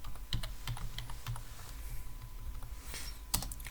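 Someone types HTML code on a computer keyboard in Visual Studio Code, producing a quiet, close stream of irregular key clicks with a few sharper taps over a faint background hum.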